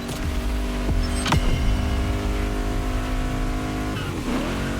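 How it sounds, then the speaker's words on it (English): A car engine in The Crew Motorfest revs hard and steadily while staged for a drag race on a runway, a loud continuous roar with rising and falling pitch sweeps. "Warm up your engine and don't blink."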